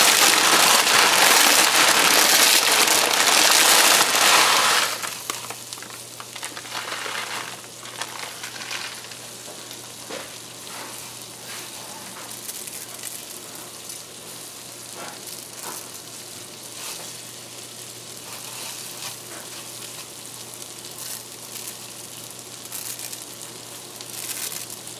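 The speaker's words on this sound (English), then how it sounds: "we're gonna add our vermicelli now to parch that" Vermicelli parching in melted butter in a pan gives a loud crackling sizzle for about five seconds, then settles into a quieter, steady frying hiss with faint stirring taps.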